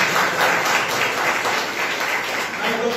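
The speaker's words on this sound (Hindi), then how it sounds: "ताली बजा के" A church congregation claps together in dense, steady applause that fills the room at close range, with voices mixed faintly underneath.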